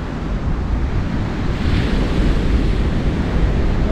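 Surf washing onto a shore as the tide comes in, a continuous broad rush with wind buffeting the microphone, with no voices.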